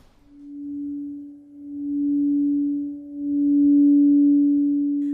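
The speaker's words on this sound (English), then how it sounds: "The melodies of the singing bowls and the vibrations of the gong echo through the halls" A singing bowl rings a pure, sustained tone in a sound bath at a New York wellness center, swelling and fading in slow waves with a faint low gong-like rumble beneath, heard alone.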